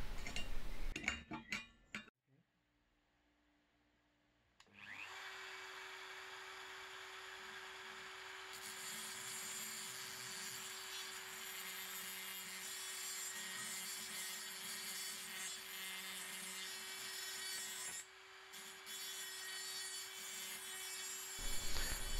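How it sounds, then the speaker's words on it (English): A Dremel rotary tool grinds excess mold metal off an antique French kerosene lamp, a steady high whine that holds for many seconds after a brief pause, close and fairly loud. "with my Dremel."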